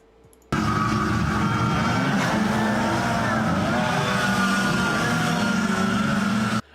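Open X4 race car engines roar to life together for a dead engine start, cutting in abruptly and holding a loud, steady, buzzing drone for several seconds before stopping suddenly.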